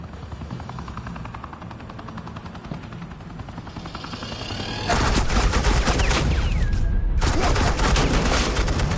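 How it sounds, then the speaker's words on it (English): Gunfire in the game Batman: The Enemy Within, starting under a steady helicopter-like drone and then erupting into a loud, sustained barrage of rapid shots that cuts off briefly and resumes. "Suppressing fire."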